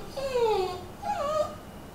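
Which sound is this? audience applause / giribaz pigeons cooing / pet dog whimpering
pet dog whimpering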